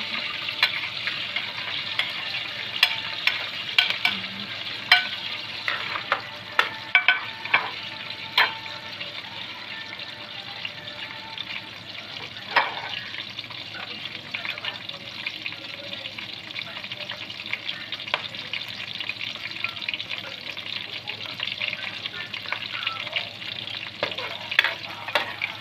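Pork and garlic frying in a pan for adobong sitaw, a steady low sizzle with frequent sharp crackles and spatters, plus occasional stirring clinks, fairly close and moderately quiet.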